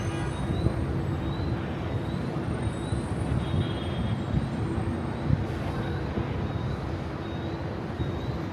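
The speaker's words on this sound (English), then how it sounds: "the AC and E train." A New York subway A, C or E train at Canal Street station gives a steady, loud rumble and rattle of rail cars, with faint high squeals, and no one speaking.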